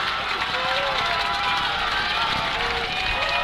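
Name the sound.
football crowd cheering at Jones stadium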